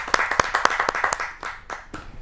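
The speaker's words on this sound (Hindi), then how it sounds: "आप सबके सामने एक जोरदार तालियों से" At a televised kavi sammelan, a small audience claps for an arriving poet with a short burst of sharp, close, uneven claps that thins out after about two seconds.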